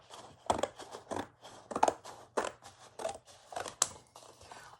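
Scissors snip through scrap paper while making junk journal cards, a steady run of close, crisp cuts with short pauses between strokes, heard alone without talk.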